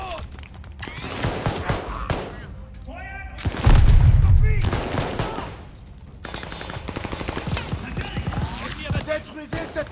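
A machine gun fires in rapid bursts in the shooter Call of Duty Vanguard, amid other gunfire, a heavy boom and shouting soldiers' voices between volleys.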